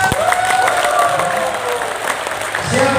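Steady audience applause and some cheering at an Indonesian political party rally speech, dense and continuous, with a voice rising over it near the end.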